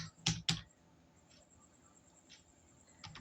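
Data being typed on a computer keyboard into stock entry software, with two sharp close key clicks at the start followed by a few faint scattered taps in a quiet room.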